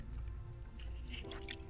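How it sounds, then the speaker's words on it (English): Coolant leaks from a loosened hose at a fitting on a VW MK7 GTI, giving soft wet squishing and dripping sounds, close and quiet. "Once this hose is loose, it will leak coolant"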